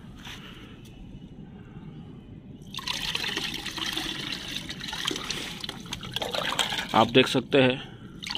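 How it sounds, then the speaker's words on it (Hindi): Liquid fertilizer made from used tea leaves is poured into plain water, a trickling, splashing pour that grows louder toward the end while someone talks over it. "इसे मैं पानी में मिला रहा हूँ।"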